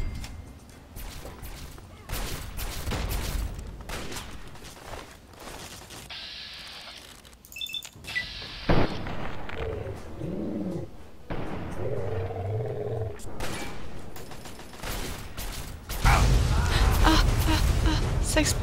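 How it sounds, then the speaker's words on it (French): Explosions go off close by in Fallout 3 gameplay, with heavy booming bursts over a steady clatter of game sound, the loudest blast rolling in near the end. "Explosé à côté de moi."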